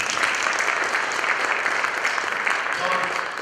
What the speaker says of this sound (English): Everybody give Kevin a round of applause, by the way